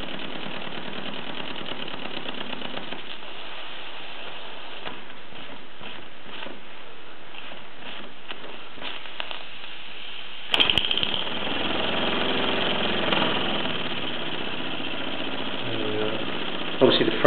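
Mamod SE1/2 steam engine ticking over very slowly, giving a soft, regular chuffing and patter, with someone talking over it and some handling noise later.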